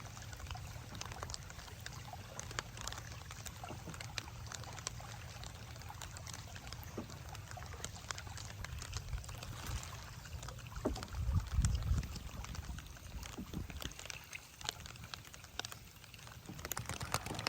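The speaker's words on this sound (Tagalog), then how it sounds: "Lumalakas po ang ulan guys." Rain grows heavier over a river during a fishing outing, a dense steady patter of drops on water with scattered sharper ticks, building slightly louder toward the end.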